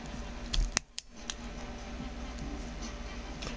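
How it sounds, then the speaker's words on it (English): A small cutter snips through a twisted wire loop during a DIY laser build, with one sharp close click followed by a couple of fainter ticks in a quiet room. "we're going to cut that loop"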